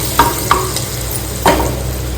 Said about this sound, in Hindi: यहाँ पे तड़का लग रहा है बटर के अंदर।